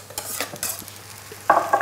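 Food rustles and sizzles in a frying pan as it is shaken and stirred, with cheese and herbs being spread over it; soft scraping at first, then a louder, steady sizzle close by.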